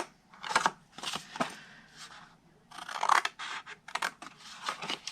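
Scissors cutting cardstock paper to make a Christmas snack cake box, several close crisp snipping and crunching strokes in bursts with short pauses between them.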